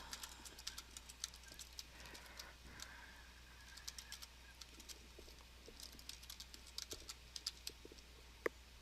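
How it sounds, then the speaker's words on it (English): Typing on a computer keyboard, a quiet irregular patter of individual key clicks at close range, continuing throughout with a few sharper taps. "and I'm starting to type."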